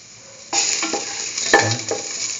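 Green chillies drop into a hot pan for a mustard broccoli potato rice dish and burst into a loud sizzle with a few crackles and pops, heard up close with no talking.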